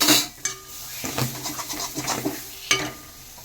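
Ripe palm fruit pulp, added for making taal kadam puli pitha, hits a very hot wok and is stirred, giving a loud sizzling hiss with scraping and clanking of the utensil against the pan.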